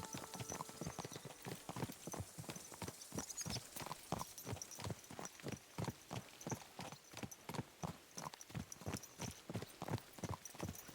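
A horse's hooves clip-clop in Kingdom Come Deliverance 2 in a steady, regular walking rhythm that stays close and clear throughout with no voices.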